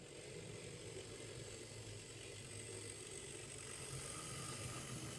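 Hornby A1x Terrier model locomotive pulling coaches along a model railway, a steady, faint whirring motor with a light rolling rattle, continuous and even throughout with no voices.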